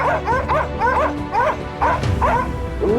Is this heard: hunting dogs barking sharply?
yes